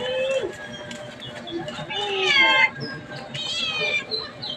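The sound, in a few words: stray cats meowing while being fed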